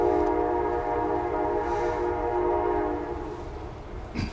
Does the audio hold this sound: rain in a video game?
no